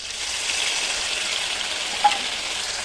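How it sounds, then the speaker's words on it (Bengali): Spice paste of dried chilli, garlic and ginger frying in a pan with fried potato, onion and tomato, a steady close sizzle and crackle throughout, with one brief scrape near the end. "মশলাটাকে আমি খুব সুন্দর করে কষাবো"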